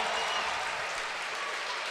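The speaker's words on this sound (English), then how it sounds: "Sioux crowd getting back into it" A Sioux football crowd at a North Dakota game against Cal Poly roars and applauds in a steady, dense wash of cheering and clapping, with no voice above it.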